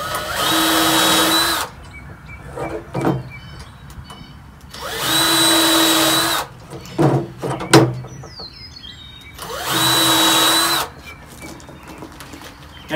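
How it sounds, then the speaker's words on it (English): A power drill bores holes in a wooden board for a birdhouse, three separate bursts of whining motor a few seconds apart, with clunks and handling noises between them. "So we'll go ahead and drill holes for this."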